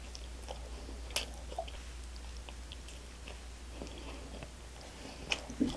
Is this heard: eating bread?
yes